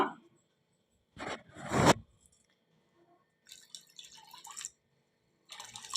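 Water is splashed into thick rava dosa batter in two short pours close by, then quieter stirring and scraping sounds follow in brief bursts.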